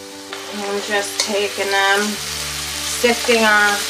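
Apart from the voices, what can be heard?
food frying in hot oil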